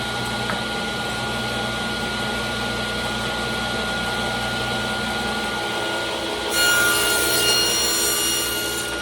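A saw on a miter sled cuts wooden picture frame pieces with a steady, close, rasping whir that holds throughout and grows louder and brighter near the end. No one speaks.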